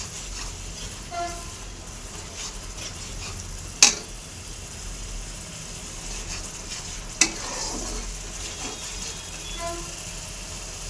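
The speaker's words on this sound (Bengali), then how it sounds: "আদা রসুন বাটা দিয়ে" Fish curry with ginger garlic paste is stirred in a hot pan. The frying is a steady close sizzle, broken by a few sharp scrapes and clanks of the spoon against the pan.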